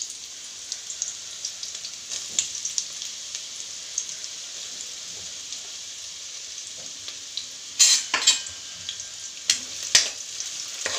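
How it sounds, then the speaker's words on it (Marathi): Onions frying in oil in a kadhai (wok), a steady fine crackling hiss throughout with a few louder scraping stirs near the end, close and continuous with no talking. "हे बघा, मी कढईमध्ये तेल टाकलेलं आहे. आता आपण कांदा व्यवस्थित तळून घेऊया."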